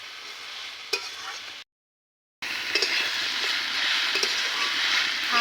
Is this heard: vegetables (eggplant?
yes